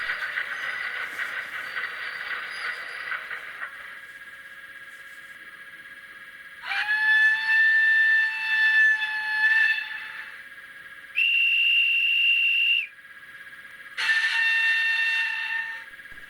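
An HO scale model electric locomotive's sound module plays several whistle and horn calls: a steady electronic hum, then a series of loud, sustained tones at different pitches, each lasting a few seconds with short gaps between, close and alone.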